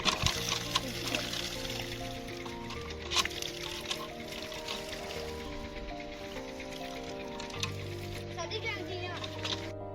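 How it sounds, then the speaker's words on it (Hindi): Water pours steadily from a hand pump in open fields, a continuous trickling splash running under a voice speaking throughout. "ये है खेतों वाला नलका और इससे हम पिएंगे ठंडा ठंडा मीठा मीठा पानी"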